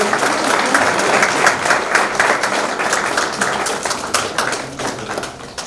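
Loud, dense applause from an audience welcoming a guest at a municipal corporation honour ceremony for garden committees in Udaipur, steady throughout with only a slight fade near the end.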